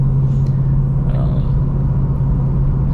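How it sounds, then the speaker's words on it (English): Deep, steady rumble from a 2023 Mustang GT Premium V8 engine, heard from close up as a continuous low drone with little variation. "The noise that the Mustang makes is obviously better than the Tesla."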